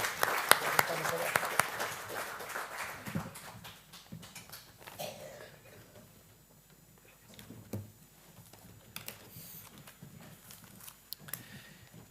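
An audience at a project launch event applauds departing welcome speakers, a brief burst of clapping that fades within a few seconds into quieter room noise with scattered taps, shuffling and faint movement.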